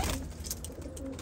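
Pigeons, a team of milk-white tufted birds, give soft low coos close by in a quiet setting, with faint background hiss.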